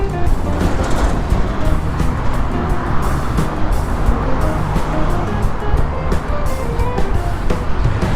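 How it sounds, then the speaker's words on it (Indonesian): A car passes by on a quiet road while someone is out jogging, a steady loud roadway rush of engine and tyre noise that fills the whole stretch without speech. "Ada mobil, cuman nggak terlalu rame. Satu-satu yang lewat."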